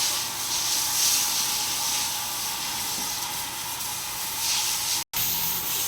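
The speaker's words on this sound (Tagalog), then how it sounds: "Power spray." Power sprayer jetting water over water buffaloes during bathing, a continuous loud hissing spray that holds steady for several seconds, briefly cutting out near the end before resuming.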